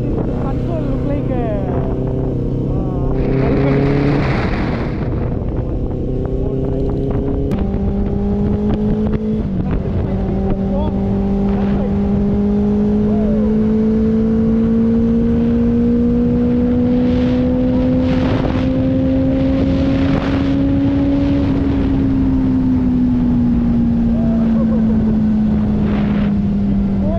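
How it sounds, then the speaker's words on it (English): A modified 2017 Benelli 600i motorcycle with an aftermarket Scarpion exhaust revs and pulls through gear changes while riding, its engine note rising and shifting with steady wind noise and some talk over it. "this is Benelli 600 2017 model. So I rode it."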